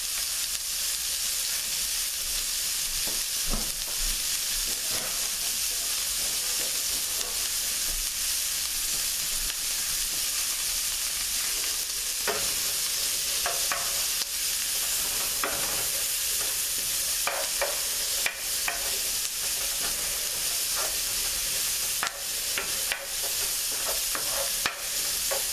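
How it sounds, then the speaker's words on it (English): Onions frying in melted butter in a pan give off a steady, dense sizzle throughout, with occasional scraping clicks of a utensil stirring them, close and continuous with no talking. "you're going to add your onions. Going to caramelize them."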